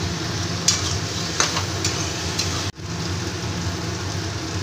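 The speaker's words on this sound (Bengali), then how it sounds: "সামান্য একটু জল দিয়ে মশলাটাকে কষিয়ে নেব।" Spice paste with red chilli powder and a splash of water is stir-fried in a pan for a jackfruit and prawn curry, making a steady, close sizzle with a few scraping stirs and one brief cut-out of sound.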